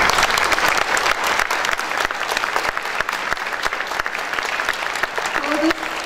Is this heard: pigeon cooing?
no